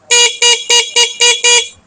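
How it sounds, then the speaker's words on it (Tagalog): An ADV160 motorcycle's stock horn honks six times in a quick, even rhythm, loud and close, each beep short and sharp. "mag-start muna tayo sa stock horn"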